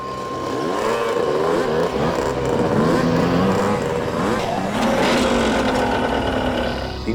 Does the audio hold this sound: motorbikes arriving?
yes